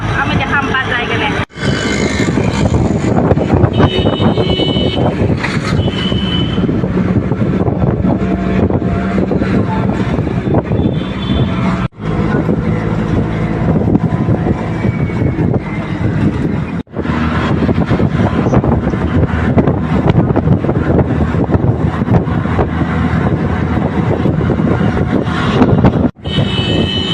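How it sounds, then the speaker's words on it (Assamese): Steady wind rush and engine drone while riding in an open auto rickshaw through a sunny area of Gujarat, continuous and close throughout, with a few brief dropouts and people talking over it. "চাহ খাই অ'টোত যাই আছোঁ"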